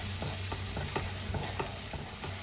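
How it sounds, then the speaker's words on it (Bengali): Spice paste for a Bengali chital fish dish frying in a pan, a steady sizzle under regular scraping strokes of a spoon stirring roughly twice per second, close and continuous. "এবার মশলাটাকে ভালো করে কষিয়ে নেব।"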